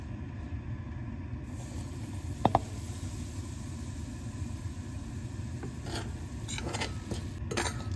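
Semolina (rava) roasting in a pan on the gas gives a faint, steady scraping and rustling as it is stirred without pause, with a couple of light clicks against the pan.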